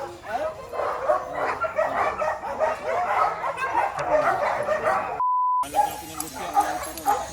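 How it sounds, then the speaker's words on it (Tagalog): Dogs held in cages bark, yip and whimper in a busy, overlapping chorus, close and fairly loud throughout, with a short gap of silence near the end before the barking resumes. "nabulabog niya yung mga asong nakakulong doon na nananahimik"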